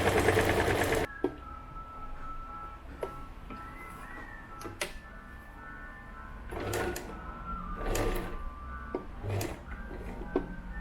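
A sewing machine stitches around a rectangle box on a crossbody bag, giving soft, intermittent runs of stitching and clicks after a brief loud opening, over a faint steady hum.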